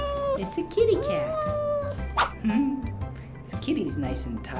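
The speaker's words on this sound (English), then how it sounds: "It's a kitty cat." Pet cat in an animal shelter meowing several times against an adult's lively voice and background noise, the meows short, rising and falling, mid-distance.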